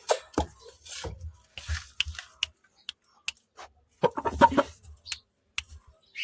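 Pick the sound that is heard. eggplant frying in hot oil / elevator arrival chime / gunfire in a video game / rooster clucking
rooster clucking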